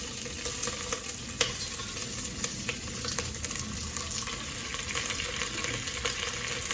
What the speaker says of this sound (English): I first put some oil and then I add some ginger into the pot